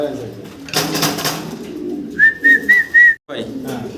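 Pigeons give a short run of clear, close cooing calls partway through, heard between stretches of background voices and handling noise in a pigeon house.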